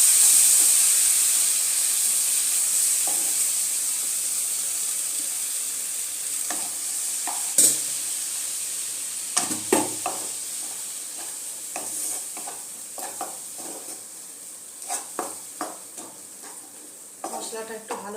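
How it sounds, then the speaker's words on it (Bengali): A spice paste of cumin and coriander powder with a little water sizzles and hisses steadily in a pan, loud at first and easing, with occasional scrapes and clinks of stirring. "মশলাটা একটু ভালো মতো কষিয়ে নেব"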